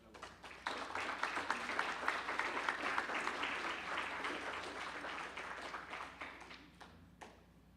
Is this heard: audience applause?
yes